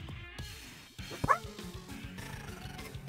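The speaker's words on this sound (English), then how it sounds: "Stop barking." A dog barks and yips a few times close by, with short sharp calls over steady game music.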